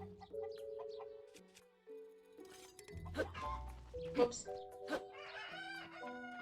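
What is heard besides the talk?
chicken (cucco) clucking in Zelda: Tears of the Kingdom video game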